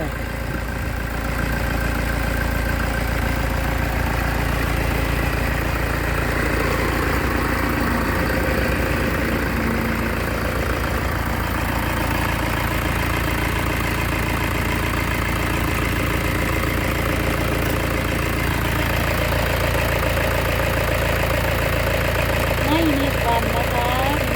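Toyota Hilux Vigo G with a 2.5 engine idling, a steady low rumbling drone that runs unbroken and fairly loud throughout, close by.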